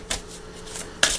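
Two short bursts of tarot cards being shuffled, a quick riffle near the start and another at the end, close by and fairly quiet.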